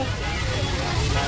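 Water pours from the mouth of a tiger statue at a hilltop temple shrine, a steady broadband splashing stream with a faint murmur of voices behind it.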